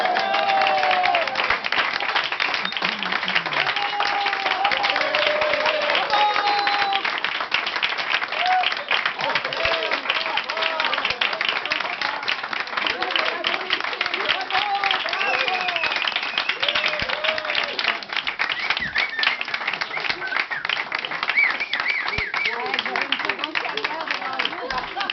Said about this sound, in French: applaudissons notre étoile du jour